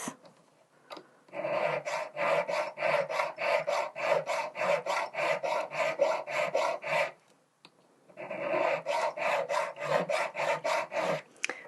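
A needle file cuts a channel in a metal domed locket with quick, even rasping strokes. Two long runs of steady back-and-forth scraping are split by a short pause.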